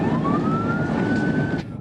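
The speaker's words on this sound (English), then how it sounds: "When the driver hears the sirens" A police car siren wails in a single long rising-and-holding tone, loud and close over steady road noise, cutting off abruptly near the end, with no talk.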